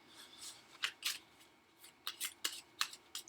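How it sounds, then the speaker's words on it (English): A series of crisp riffling, flapping bursts as a deck of plant cards is shuffled during a tabletop card game, in quick clusters with short pauses between, close by and fairly quiet. "And then we shuffle the rest of the plant cards."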